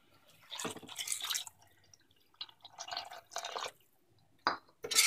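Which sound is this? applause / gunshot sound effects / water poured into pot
water poured into pot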